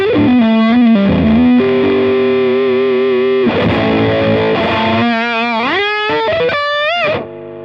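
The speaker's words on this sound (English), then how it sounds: "Obviously it's quite noisy, it's a fuzz, it's meant to be noisy." An electric guitar plays through a fuzz pedal into a boosted Marshall-style amp, giving a thick, saturated, noisy tone. Sustained notes and bent phrases ring loud and alone before cutting off at the end.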